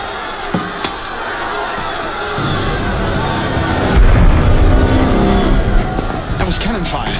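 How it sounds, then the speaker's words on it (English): Cannon fire rumbles through a busy scene in Assassin's Creed Unity, with low booms rolling under crowd noise and voices as the bass swells loudest partway through. "That was cannon fire."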